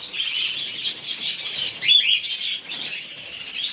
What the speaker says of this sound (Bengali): এই জেব্রা ফিন্সও আছে, একদম অ্যাডাল্ট ইয়ং সব একসাথেই আছে।